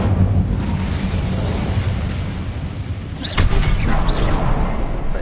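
A roaring fire spell, Incendio, cast in Hogwarts Legacy on PS5, a loud continuous blast of rushing flame with a second surge partway through, close and with no talk over it.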